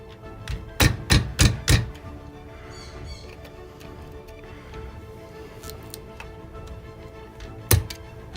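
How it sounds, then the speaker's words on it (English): Small screwdriver pushing crimped connectors out of a LiPo battery plug held in a bench vise, giving a quick run of four sharp taps and clicks near the start, then a quiet stretch and one more click near the end. "Use a little screwdriver to push these connectors out."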